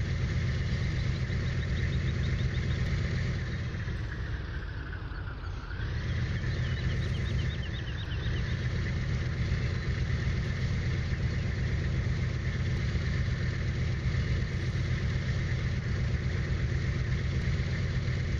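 Truck engine in Farming Simulator 15 idling with a steady, loud droning rumble, a brief dip in pitch partway through as it settles, then running evenly with no talk.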